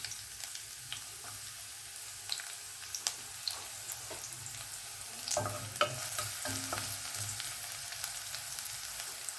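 Sliced shallots frying in coconut oil with popped mustard seeds for Kerala erissery, a soft steady sizzle with occasional light clicks and stirring scrapes, fairly quiet.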